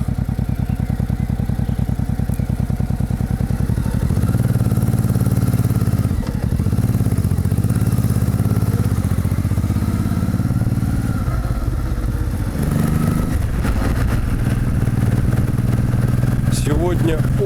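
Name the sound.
motorcycle riding on the road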